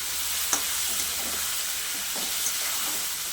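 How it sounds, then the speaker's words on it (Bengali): Tomato, green chili and a little onion masala frying and being stirred in a pan for a rohu fish curry, a steady close sizzle broken by soft scraping stirs and a few small spatters. "আমি এবার মশলাটা দিয়েই কষিয়ে নেব।"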